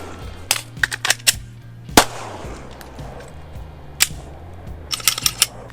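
Pistol shots from a ZEV OZ9 fired from concealment on a range, with sharp cracks spaced irregularly and a quick cluster near the end, under a steady low hum.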